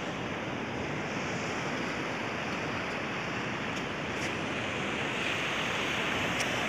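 Ocean waves wash onto a beach in a continuous broad roar of surf, steady and fairly loud throughout with wind noise mixed in and no voices.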